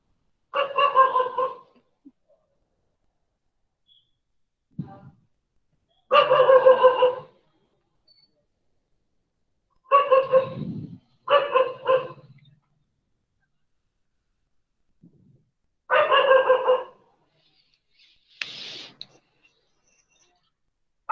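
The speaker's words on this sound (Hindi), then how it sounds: "देखो मैं वहां पे तो भी आवाज आता है हाँ, मेरे डॉगी का है।" A pet dog barks in drawn-out, tonal calls, about five separate ones spaced several seconds apart, fairly loud and close, with near silence between them.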